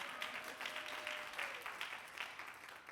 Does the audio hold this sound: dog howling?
no